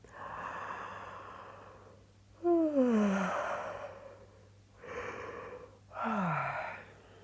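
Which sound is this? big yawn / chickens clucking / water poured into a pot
big yawn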